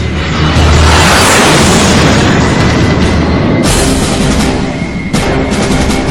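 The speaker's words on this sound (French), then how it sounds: "Les mitrailleuses de Reisner font voler en éclats la verrière du cockpit du MiG." Dense, loud, continuous burst of machine gun fire from an F-86F fighter shattering the cockpit canopy of a MiG-15 in a Korean War air combat scene, an unbroken roar with crackling impacts and a sharp break near the end.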